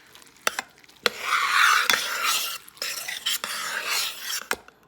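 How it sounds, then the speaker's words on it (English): Eggs being mixed into rice and beans in a pot, a utensil scraping and stirring in bursts with a few sharp clinks against the side, close and moderately loud with no talking. "the eggs are mixed in"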